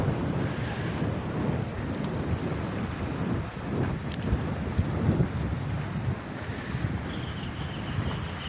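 Sea waves surge around the island fort of Sindhudurg, a constant rushing wash mixed with heavy wind buffeting the microphone, with no talking.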